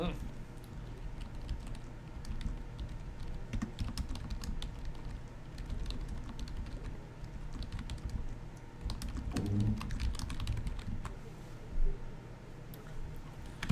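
A deck of Magic cards being shuffled, a dense papery riffling patter, with people talking over it.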